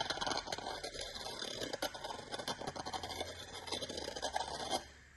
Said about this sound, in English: deburr that bad boy